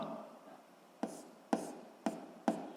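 A pen writes on paper, softly scratching through short strokes with a few sharp taps roughly every half second, quiet and close.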